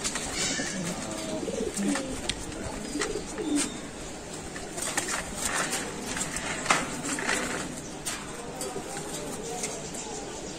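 Pigeon at a Bangladeshi pigeon farm cooing amid a noisy, hissy background, the low coos faint and intermittent while people talk nearby.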